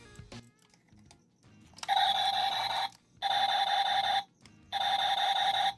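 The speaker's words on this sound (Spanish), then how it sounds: "Este tiene un láser que bueno" A Buzz Lightyear toy's laser sound effect, with a loose connection, blares three times in bright electronic buzzing bursts of about a second each, preceded by faint clicking and handling noise.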